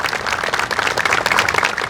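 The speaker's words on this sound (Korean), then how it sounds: "박수를 치면서 환영해주는 모습입니다" Blue House staff in Seoul applaud the arrival of newly inaugurated President Moon Jae-in in 2017, a steady, dense round of many hands clapping together, fairly close and continuous.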